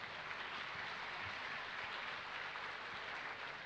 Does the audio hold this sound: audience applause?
yes